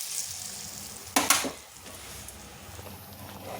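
Spices sizzle hot in ghee as a tempering for dal tadka, with a sudden loud crackling burst and spluttering that settles back to a steady low fry, no voices.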